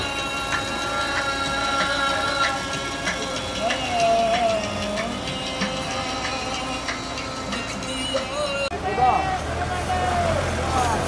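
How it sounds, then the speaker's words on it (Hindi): A jeep engine droning along a mountain track on the way to Rati Gali lake, a steady rumbling hum with shifting tones and background voices talking over it. "ये सामने देखें ना जीप जा रही है ये"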